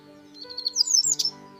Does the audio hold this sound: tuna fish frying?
no